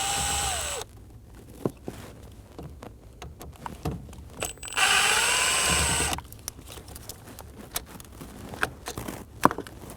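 A cordless power driver backs out two Phillips head screws holding the ignition starter switch on a 2008-2015 Scion xB, giving a steady whine in two close bursts amid light clicks and handling noise.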